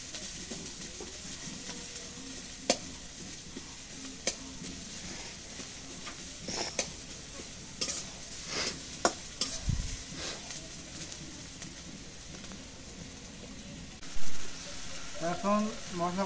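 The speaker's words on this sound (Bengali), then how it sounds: "এটুকু দিয়ে একটু ঘামাই নিই, মরিচ পেঁয়াজটা একটু ঘামাই নিই, তারপর আরও দেব।" Chilli and onion sizzle softly in a small amount of frying oil, with steady low crackle and a few clattering stirs from a utensil against the pan, plus some louder scraping near the end.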